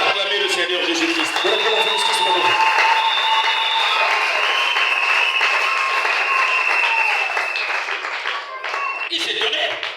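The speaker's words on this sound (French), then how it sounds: "Acclamez le Seigneur Jésus-Christ." A church congregation bursts into sustained, dense applause and clapping in acclamation of Jesus Christ, loud and full throughout, with a voice speaking over it near the start and end.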